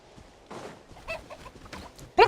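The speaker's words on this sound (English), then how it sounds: "Weird bird. Making noises at me." A bird in the Genshin Impact video game makes short clucking, cooing calls in quick bursts over a quiet in-game background, ending in one louder, sharper call.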